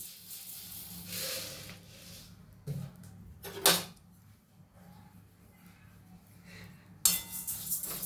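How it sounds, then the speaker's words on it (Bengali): Quiet, intermittent scraping and clinking as dry lentils are roasted without oil in a metal wok, with short bursts of rattling between near-silent gaps. "আমরা তেল ছাড়া ডালটা ভেজে নেব।"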